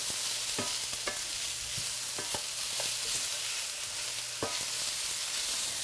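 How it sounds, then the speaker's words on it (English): Colorful stir-fry vegetables sizzling in a hot pan, a loud constant hiss with irregular sharp scrapes and taps of a spatula stirring, no speech. "we're just going to stir that in"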